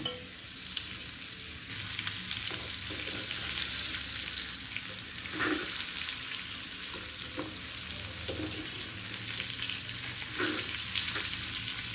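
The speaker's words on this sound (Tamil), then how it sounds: "பொடியாக நறுக்கிற மாங்காய் போட்டு நல்லா வணக்கி வச்சு" Chopped raw mango fries in oil with turmeric for a pickle, a steady quiet sizzle with a few soft scrapes of a spoon stirring the pan.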